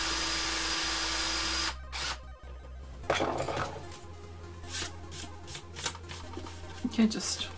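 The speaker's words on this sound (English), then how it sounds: "So let's drill that first." A drill bores into the casing of an Atari 7800 console during a restoration, a steady whine for under two seconds followed by quieter close-up clicks, handling and scraping noises.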